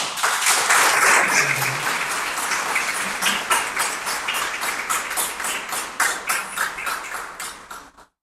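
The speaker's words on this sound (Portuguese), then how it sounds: "Uma salva de palmas." A room full of people applauding at a church service, loud steady clapping that gradually thins and fades out.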